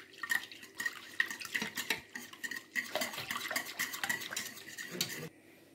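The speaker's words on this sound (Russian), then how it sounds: "Берем теперь либо вилку, либо венчик. И это все перемешиваем." Sour cream and water being stirred with a fork or whisk in a bowl: quick, irregular metallic scraping and clinking strokes with a wet, sloshy edge, close up and steady, stopping briefly before the end.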